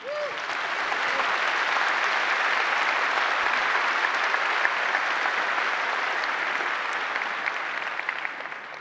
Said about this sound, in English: I want everyone to applaud these folks.